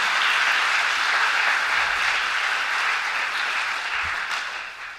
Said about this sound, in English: So a huge round of applause for GCTV.